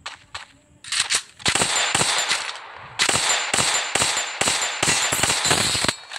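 Rapid bursts of automatic gunfire and sharp shots in a mobile battle-royale shooter game, loud and close, firing in repeated volleys with brief gaps between them.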